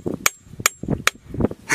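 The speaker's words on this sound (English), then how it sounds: "I want to try hitting it with a hammer." A hammer strikes an iron anvil floating in mercury four times in quick, regular succession, each blow a sharp, fairly dull metallic clank that dies away quickly.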